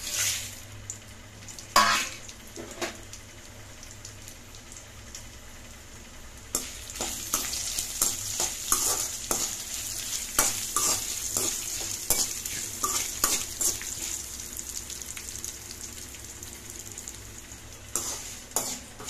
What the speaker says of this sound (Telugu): అవి దోరగా వేయించాలన్నమాట, మాడకూడదు.